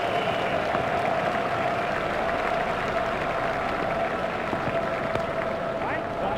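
A cricket crowd at a India–South Africa Test match gives a standing ovation, steady broad applause and clapping filling the stadium throughout, with a commentator talking over it.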